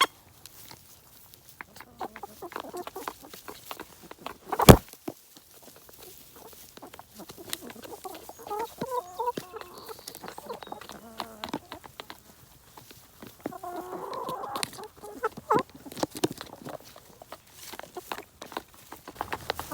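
Backyard chickens on sandy soil clucking and chattering in bursts, fairly close, with scratching, pecking and a sharp knock partway through, with no talk.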